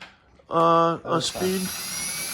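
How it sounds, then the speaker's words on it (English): An electric drill drives a Talbot Lago scissor jack down at fast speed, giving a loud, close, tonal whir in short bursts that rise in pitch, with speech heard in between. "We're using an electric drill here."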